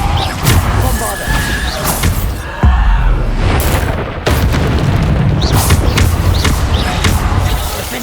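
Bombarda blasting spells go off in a Hogwarts Legacy battle, several heavy booming blasts at irregular intervals amid loud combat clatter and whooshes, close and forceful.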